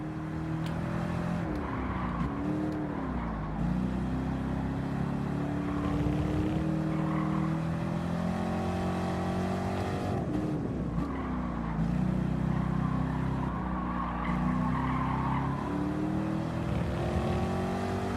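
Race car engine in the Gran Turismo video game spinning out and skidding, a continuous loud engine drone with rising and falling revs and swooping pitch sweeps for the whole stretch, no talking.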